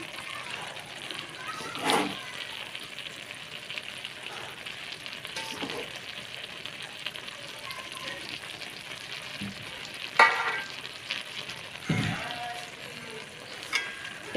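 Cooked rice being folded gently into soybean biryani in a pot, a low continuous sizzle with a few soft scrapes and knocks of a spoon at intervals.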